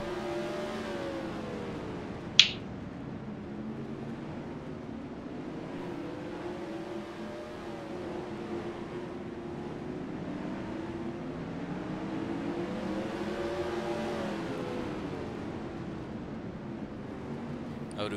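Race cars lapping at Rockford Speedway, engines droning continuously with rising and falling pitch as cars pass, moderately distant, plus one brief sharp click early on.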